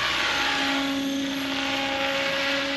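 A steady, loud turbine whine with strong tonal hum from an XL Power Nimbus 550 RC helicopter hovering or flying nearby, constant throughout with no talking.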